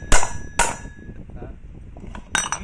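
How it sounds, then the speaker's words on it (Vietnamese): A steel hammer strikes the clutch drum of a Husqvarna machine propped on two wood blocks, giving sharp metallic clanks: two hits close together, a pause, then a pair of quicker taps, loud and close. "chúng ta kê vào hai cái miếng gỗ như này, chúng ta gõ. Chúng ta kê vào đây, chúng ta lấy búa chúng ta gõ ở đây là nó ra."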